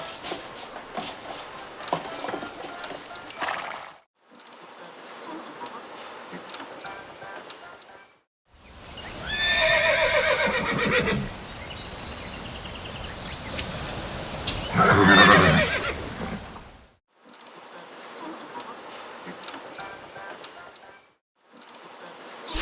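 A horse in the video game Saddle Up neighs loudly in a long, shrill whinny amid game sound effects, with a second call later in the stretch, all set between quieter passages of background game audio.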